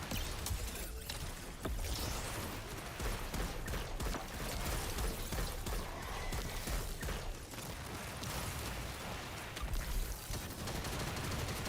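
Continuous dense machine gun fire in the shooter Destiny 2, a steady loud roar of rapid shots with mechanical clatter and no pause throughout.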